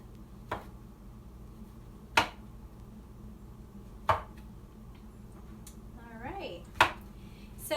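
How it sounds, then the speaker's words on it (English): Mushrooms being sliced with a knife for a broccoli, mushroom and garlic dish: a few sharp, separate cuts spaced a second or two apart, over a low steady kitchen hum. "I'm going to slice up these mushrooms too"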